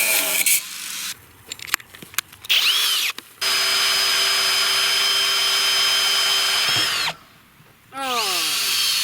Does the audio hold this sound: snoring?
no